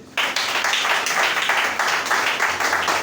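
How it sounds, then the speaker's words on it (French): A church congregation breaks into sustained applause, a dense wash of many hands clapping that begins abruptly and carries on steadily at close, loud level. "Acclamez pour eux."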